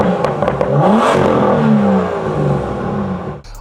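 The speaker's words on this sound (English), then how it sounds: "the M Performance exhaust sounds phenomenal" A BMW M2 with an M Performance exhaust revs loudly up and down at a car show, close by, its pitch sweeping through a couple of blips before settling into a sustained roar.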